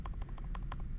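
Someone types a command into the macOS Terminal on a computer keyboard: about a second of quick, close, evenly spaced key clicks on their own.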